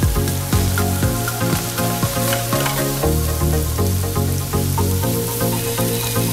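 Canton noodles fry with leftover steak and cabbage in a hot pan, a loud steady sizzle close up with crackling pops and a few stirring clatters.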